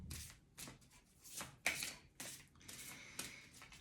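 A deck of cards is shuffled for a card reading, with brisk riffling and slapping strokes coming close and clear in quick irregular bursts, no speech.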